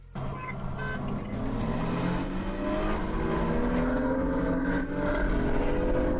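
A BMW 335 with an N20/N26 engine, roughly 200,000 km old, pulls hard on a dyno, a loud sustained roar climbing steadily in pitch through a long run with no break.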